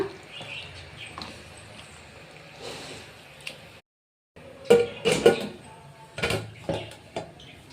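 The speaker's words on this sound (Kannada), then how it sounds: "ಒಂದು ಮಿಕ್ಸ್ ಕೊಟ್ಬಿಟ್ಟು ಲಿಡ್ ಹಾಕ್ಕೊಳ್ಳೋಣ" A metal lid clatters onto a pressure cooker pot of mutton sambar in a home kitchen. Light scraping comes first, then a cluster of sharp metallic clanks and rattles near the end, close and fairly loud.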